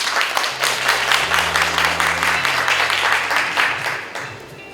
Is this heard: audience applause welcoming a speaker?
yes